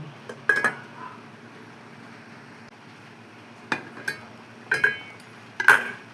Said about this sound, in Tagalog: Haluin natin na para maluto ng maayos ang ating malunggay kasama ng kalabasa